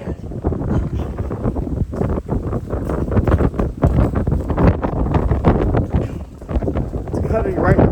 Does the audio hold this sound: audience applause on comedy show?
no